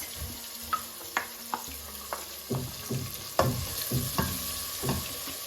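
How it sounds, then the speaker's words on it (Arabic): Onions and garlic fry in oil in a pan, with a steady sizzle broken by repeated scraping stirs and clicking utensil taps, close and moderately loud. "وتوا باش نقليهم في الزيت"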